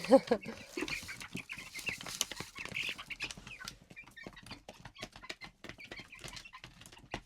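A group of chicks feed together, giving a busy stream of close, rapid pecking taps and soft cheeps and clucks, with a person talking over part of it.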